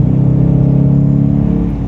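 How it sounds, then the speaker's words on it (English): A Dodge Challenger R/T Hemi cruises at highway speed, its exhaust a loud, steady low drone and rumble inside the cabin, mixed with road and wind noise, easing slightly near the end. "Also, you can hear the exhaust."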